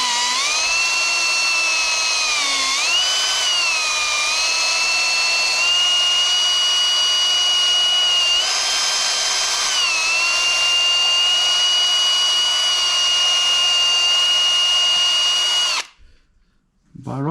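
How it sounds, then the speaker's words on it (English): A drill whines steadily at slow speed for a long stretch, worked backwards and forwards on an MG cylinder head, its pitch dipping and rising slightly, then cuts off near the end. "then I just slow speed on a drill and just work it backwards and forwards slowly"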